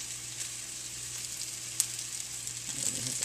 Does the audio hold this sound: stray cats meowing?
no